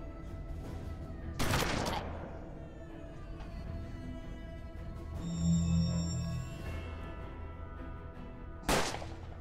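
Two loud shotgun blasts from the turn-based western game Hard West, one early and one near the end, each a sharp broadband crack with a decaying tail over a steady game soundscape, with a tonal chime in between.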